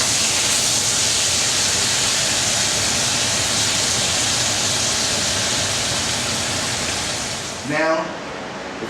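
Hamburger and Italian sausage sizzle steadily in a pan as a dense, continuous hiss that holds loud and near throughout, with a brief voice near the end.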